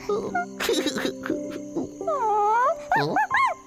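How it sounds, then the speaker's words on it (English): A cartoon puppy whimpers in a string of high, wavering whines and short yelps, close and fairly loud, rising and falling in pitch over a few seconds. "you're the cutest puppy I've ever seen."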